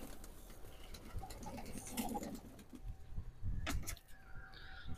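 Pigeons feeding on scattered grain coo softly nearby amid faint pecking and shuffling, with a brief knock or sliding sound partway through and no talking.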